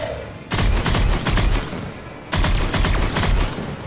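Sniper rifle fire in the video game Mass Effect 3: two loud bursts of rapid, crackling shots separated by a brief lull, each sustained and booming close by, with no speech.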